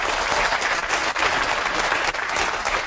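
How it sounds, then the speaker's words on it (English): Sustained audience applause for panelists at a leadership conference, dense and steady clapping from a full room that holds evenly throughout before cutting off. "a big round of applause"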